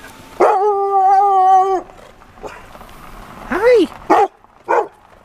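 A dog near a Keweenaw back road gives a drawn-out whining yelp followed by several short, loud yips and barks, with a person speaking around them.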